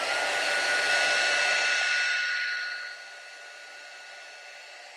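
A handheld heat dryer blows steadily, drying Distress spray shimmer on paper, a loud whooshing hum with a tonal whine that winds down to a quieter fading hiss after about three seconds.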